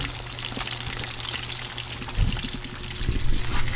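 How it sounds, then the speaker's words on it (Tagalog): Food frying in a pan of oil for a meal after a fishing trip, giving a steady close sizzle with a few louder bursts as pieces shift. "Actually, nandito na yung ibang piniprito."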